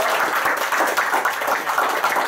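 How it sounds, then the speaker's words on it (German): An audience at a folk music gathering applauds the Unger family, a dense, continuous wash of clapping hands filling the room at steady loudness. "klatschen für die Familie Unger."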